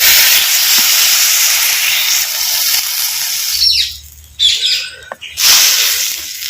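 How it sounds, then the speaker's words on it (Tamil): Loud sizzling hiss rises as water is poured into frying tomato masala in a pan for a Chettinad dry meat curry, a broad steam roar that cuts out and flares in bursts as it settles toward a boil. "நல்லா கொதிக்கட்டும்"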